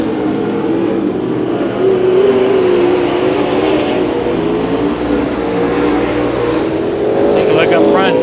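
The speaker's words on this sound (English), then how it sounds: "Good side-by-side racing for the 4th spot live on Race Videx." Race cars run side by side at Santa Maria Raceway during Saturday heat races, a steady close engine drone that swells and recedes throughout while an announcer talks over it.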